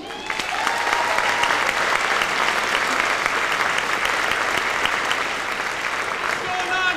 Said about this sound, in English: please welcome Brian Moote